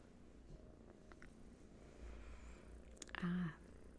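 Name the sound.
cat purring in lap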